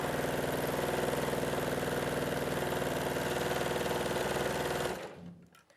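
A sewing machine stitches strips of fabric together in a fast, even mechanical whir that runs steadily, then stops abruptly near the end, leaving near silence.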